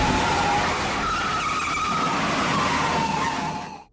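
Film car chase with tires squealing and skidding: a loud, sustained screech over engine roar that cuts off abruptly at the end.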